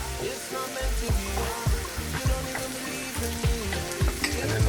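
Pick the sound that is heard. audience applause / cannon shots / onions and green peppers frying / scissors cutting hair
onions and green peppers frying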